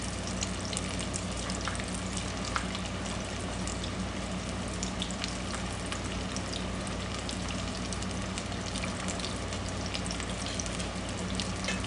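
Cucumbers fry in a pan with a steady, dense sizzle and crackle that stays close and even throughout, with sharp pops here and there and no talking.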